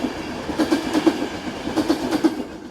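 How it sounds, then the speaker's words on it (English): Czech locomotive 15221 hauls local train 3416 through a narrow Slovak river valley, its wheels beating out a steady, repeating clickety-clack over rail joints against a continuous rolling rumble, moderately close and without voices. "15221 heads local train 3416, the 1348 from Liptovský Mikuláš."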